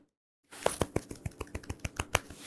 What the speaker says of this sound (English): Actually, it's more of a mid-range clap.